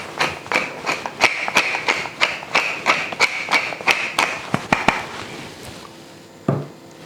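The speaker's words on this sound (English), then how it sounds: "And now of course comes the cracked pepper." Pepper mill cracking black pepper over a tomato salad, giving a quick, steady run of close, crisp grinding clicks that stops after about five seconds, followed by a single soft knock.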